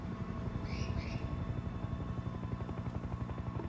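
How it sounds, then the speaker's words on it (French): Helicopter approaching to land in the video game Sniper Ghost Warrior 2, a faint steady rotor chop with fast rhythmic pulsing throughout, distant and alone. "Hélico en approche à 6h"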